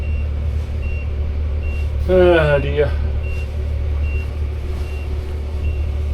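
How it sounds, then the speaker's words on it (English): Exhaust alarm on a boat engine beeps in short, evenly spaced high tones over a steady low engine hum, while a brief voice speaks partway through. "that was the alarm up here, was exhaust alarm."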